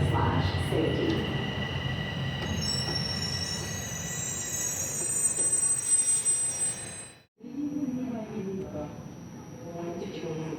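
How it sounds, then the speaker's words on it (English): A TTC subway train running along the track, with a steady rumble and faint wheel squeal throughout; the noise drops briefly near the end, then the rumble resumes under an onboard announcement voice. "While the train is in motion, please remain seated or hold on to the handrails."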